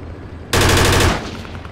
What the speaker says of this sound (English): I'm taking fire from my south.